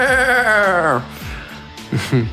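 A sheep gives a long, wavering bleat that trails off, then a few shorter bleats follow over a busy background, with no talk heard.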